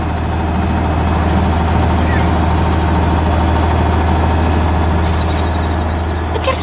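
Large green combine harvester cutting wheat, its heavy engine droning in a loud, steady low rumble with a constant hum, close and continuous, with faint lighter clatter near the end.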